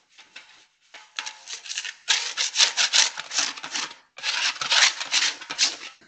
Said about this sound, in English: Clean the hopper with the included scraper.